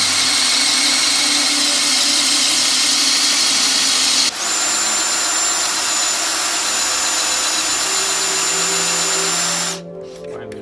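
A power drill fitted with a FAMAG B1 bit bores into wood with a loud, steady whine that holds for about ten seconds, shifts pitch partway through as the bit bites, then cuts off abruptly.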